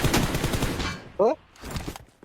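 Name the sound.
gunfire in the video game PUBG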